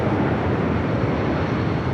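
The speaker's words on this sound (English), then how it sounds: "Special livery Star Wars there on 25 at left, so it's taking off 25 at right." Airliner in Star Wars livery taking off from runway 25 right at LAX, a steady broadband jet roar heard at some distance and without pauses.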